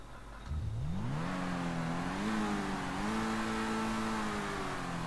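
A Lamborghini Sesto Elemento in GTA 5 roars to life and revs steadily upward through rising gear-like steps, a loud continuous engine tone held close for several seconds with no talk.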